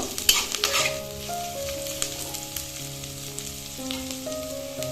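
Onions frying in oil until reddish, a continuous close sizzle with a few scraping stirs early on, while a steady humming tone runs underneath and no one speaks.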